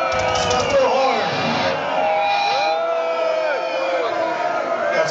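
Metal concert audience at a show at Full Of Hate 2012, roaring, cheering and screaming continuously and loudly throughout, with whoops and yells rising over the crowd noise.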